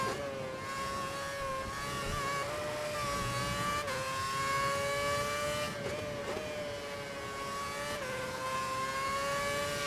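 Formula 1 race car in F1 2011 with its engine over-revving, a steady high-pitched screaming whine that holds and shifts slightly in pitch, with brief dips at gear changes, loud and continuous.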